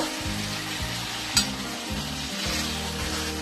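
Banana flower curry sizzles steadily in a pan as a little water is added, a dense continuous frying hiss with a sharp brief spike partway through, close and loud with no talk.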